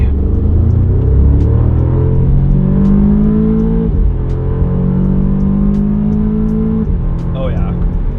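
Audi TTS (8J) engine revving hard to high RPM on a test drive, a loud sustained roar with rising and falling pitch sweeps through gear changes, heard from inside the car.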